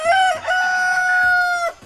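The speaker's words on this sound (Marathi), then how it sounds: "ए कोंबड्या गप्प आहे." A rooster crows loudly and close by, one full drawn-out cock-a-doodle-doo call with a short clucking lead-in, and no talk over it.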